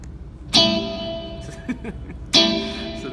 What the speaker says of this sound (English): So there's light reverb there